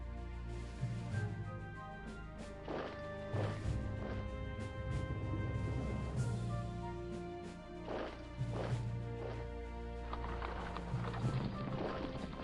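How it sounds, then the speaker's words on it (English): Horses galloping in an American Civil War strategy video game, a steady drumming of hoofbeats mixed with clattering impacts and battle noise, moderately loud and continuous with no talking over it. "Horses."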